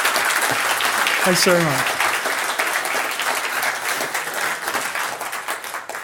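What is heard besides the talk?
audience clapping after a talk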